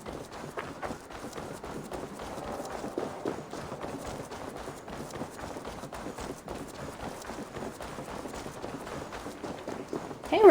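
Hooves clip-clop at a quick, steady run in a video game, a continuous patter of muffled thuds at moderate volume throughout.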